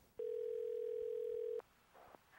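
A telephone ringback tone sounds while calling, one long steady electronic beep held for about a second and a half, clear and alone, followed by faint quiet sounds.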